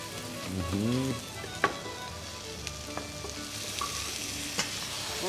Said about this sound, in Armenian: Կարտոֆիլ տապակեցինք, մանր խորանարդիկներով կտրատված, հավի կրծքամիս, գլուխ սոխ ենք տապակում։